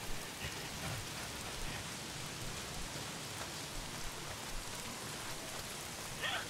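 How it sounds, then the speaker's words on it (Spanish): Continuous rain pours in the video game Days Gone, a thick uniform patter of drops on surfaces with a few faint brighter taps, steady throughout with no talking. "¿Por qué siempre está lloviendo?"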